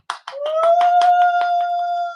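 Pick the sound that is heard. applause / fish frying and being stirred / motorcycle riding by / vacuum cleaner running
applause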